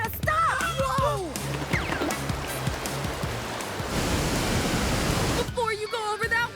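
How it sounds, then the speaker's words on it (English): A cartoon waterfall rushes as a broad, steady hiss of falling water that fills the middle of the moment, with excited cartoon voices shouting just before and after. "Before you go over that waterfall!"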